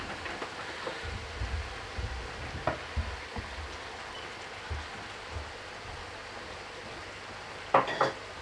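Korma base gravy with chicken cooking in a pan on an electric hob: a steady low sizzle with soft scraping stirs and occasional taps of a metal chef spoon, ending in a couple of sharper clinks.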